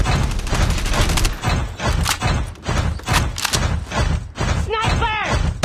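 Sustained rattling automatic gunfire in a Call of Duty Mobile match, loud and near, in rhythmic bursts with heavy thuds, and a game voice speaking toward the end.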